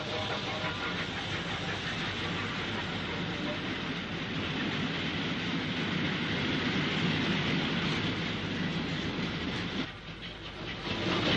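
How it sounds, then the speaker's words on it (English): An LMS Black 5 steam locomotive runs along the down fast line toward Crewe in the 1950s, a steady broadband rumble and hiss with faint rail clatter, loud and continuous before a brief dip near the end. "A Black 5 460 heads for Crewe along the downfast."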